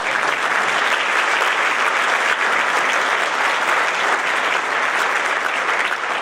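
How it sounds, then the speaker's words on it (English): A big round of applause from a commencement ceremony audience, a thick, even wash of many hands clapping loudly and continuously throughout, with no speech over it. "So let's give Ed a big round of applause"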